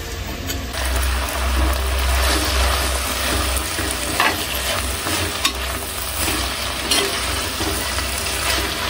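Onions frying in a pan make a steady, loud sizzle that runs throughout, with occasional stirring scrapes and no talking over it.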